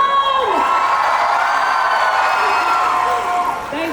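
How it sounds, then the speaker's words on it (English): A crowd at a Shah Rukh Khan evening event cheers and whoops loudly and steadily, with clapping and shouts blending into a continuous roar that eases slightly near the end. "can I hear a big round of applause?"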